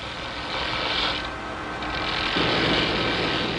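Loud, steady industrial machinery clatter and hum filling a hot Hong Kong factory, a constant mechanical roar with grinding, ratcheting texture.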